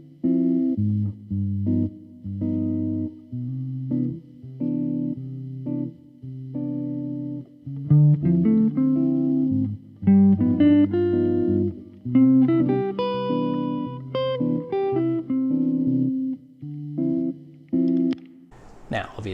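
Electric guitar picks out arpeggios over a ii–V–I progression, a steady run of plucked note patterns cycling through each chord, getting busier and more ornamented in the second half before a brief noisy scrape at the end.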